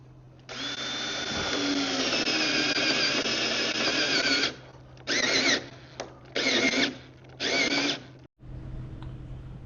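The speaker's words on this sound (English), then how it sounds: "Let's take some measurements and drill some holes in the bottom." A power drill bores holes into the bottom of a DIY potato grow bed: one long sustained whine, then several short bursts of drilling with pauses between.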